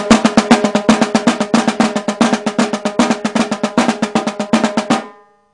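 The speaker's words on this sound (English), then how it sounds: "And if you want to do Flam Taps," Flam taps on a drum, flams with a couple of extra strokes between them, form a fast, dense run of close, loud strikes with a grouped, rolling rhythm that stops cleanly after about five seconds.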